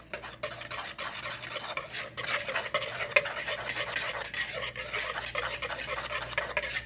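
A whisk beats batter for a Swiss roll in a bowl, making a steady quiet scraping and swishing that goes on without pause, with no talking.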